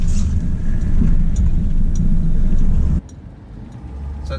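An early Ford Falcon with freshly rebuilt drum brakes, new wheel cylinders and brake lines rumbles loudly on a test drive, the engine a steady low roar that suddenly drops to a quieter hum partway through.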